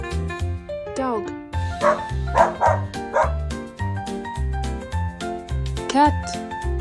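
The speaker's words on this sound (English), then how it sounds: "Dog." Dog in a children's animation barking in a quick run of short woofs and yips, close and clear over a bouncy musical backing.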